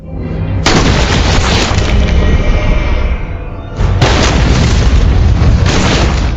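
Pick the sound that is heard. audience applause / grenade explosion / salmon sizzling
grenade explosion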